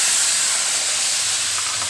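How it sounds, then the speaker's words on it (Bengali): Warm water goes into a hot pan of jackfruit curry and hisses loudly, giving a steady, close steamy sizzle that lasts the whole moment with no talk. "এবার আমি এর মধ্যে একটু জল দিয়ে দেবো"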